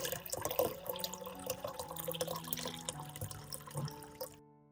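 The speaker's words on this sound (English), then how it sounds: "Pour water into a large basin." Water pouring into a large basin in a kitchen, a close splashing, bubbly flow with some clinks, running steadily and then stopping abruptly near the end, with no talking.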